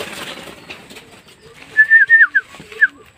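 Homing pigeons, including a blue bar, coming back into their loft give a quick run of bright, short calls, about five close together, then one more after a pause. They follow a quieter, noisy stretch and are heard alone without talk.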